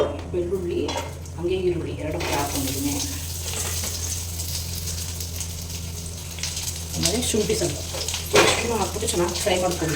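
Onions fry in hot oil with cloves, cumin and pepper in a home kitchen pan, a steady sizzle with bursts of scraping and stirring at the start and again near the end, under a low background hum.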